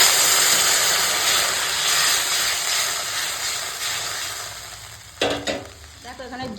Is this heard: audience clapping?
no